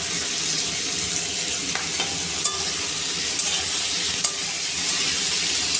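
Tomatoes, spring onions and potatoes fry in a pan with a constant close sizzle. A few light clinks of stirring sit on top of the sizzle.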